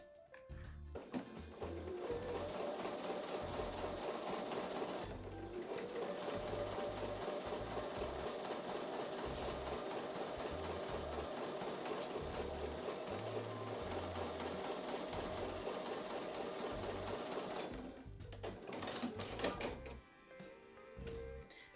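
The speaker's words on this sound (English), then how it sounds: "I'm going to take those over to the sewing machine and sew with a 1/4 inch seam" A sewing machine stitches quilt block pieces with a quarter-inch seam, running in a fast, steady mechanical whir for most of the stretch with brief pauses, close and alone.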